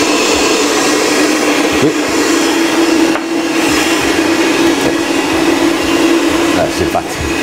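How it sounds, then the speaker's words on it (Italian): An electric mixer whips egg white with a pinch of salt for pancake batter, giving a loud, steady whirring motor drone that lasts throughout, with a brief voice over it. "Qua, montiamo l'albume"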